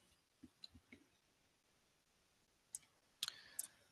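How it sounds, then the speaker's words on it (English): Several sharp, faint computer mouse clicks arrive in a loose cluster near the start, then a short pause, then a few more crisp clicks toward the end, close and quiet in an otherwise silent room. "Let me click OK."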